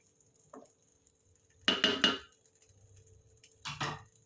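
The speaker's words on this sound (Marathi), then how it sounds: "आणि आपण नव्वद टक्के भात शिजवून घ्यायचा आहे जास्त शिजवायचं नाही आहे असं एकसारखं ढवळून घ्यायचं आहे" Partly cooked rice for egg biryani is stirred in a pot, with two short bursts of spoon-against-metal scraping and clatter separated by near silence.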